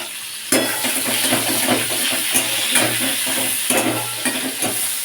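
Chopped green chillies fry in oil in a pan for a vegetarian paneer dish, giving a steady close sizzle with repeated scrapes and clinks of a stirring spoon against the pan.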